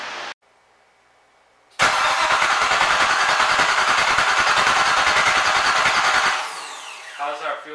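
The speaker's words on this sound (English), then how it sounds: "hopefully we're starting her up." Jeep CJ7 engine after a full rebuild, cranking with a loud, close, rapid rhythmic whirr for several seconds before cutting off, with brief quieter sounds and a voice afterward.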